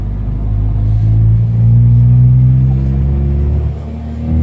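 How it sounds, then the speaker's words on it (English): A Honda Civic fitted with Integra Type R brakes pulls away from the street, its engine rumbling close and loud, rising in revs then easing off as it cruises around the block. "We're just going for a ride around the block really quick to see how it goes."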